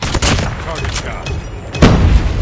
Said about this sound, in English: Sniper! I got shot!